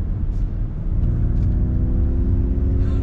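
A 2021 Ford Mustang Mach-E electric SUV plays its synthetic propulsion sound while accelerating, a steady low droning hum with rising tonal layers, loud and close, no talking.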